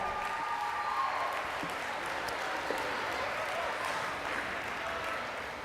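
A banquet audience gives a steady round of applause for the school's female athletes at a sports awards night, a dense, even wash of clapping that stays level throughout.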